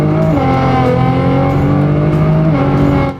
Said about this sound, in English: You can hear the clutch slipping here.